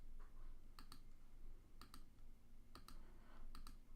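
Mouse clicks in a web app, heard as several quick double clicks spaced about a second apart, faint and close over a quiet steady hum.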